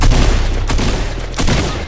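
Video game shotgun fire in a battle royale match: loud, booming blasts in a dense, continuous burst of gunfire, close and alone without speech.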